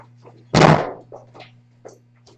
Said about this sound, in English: excuse me while I go shut the door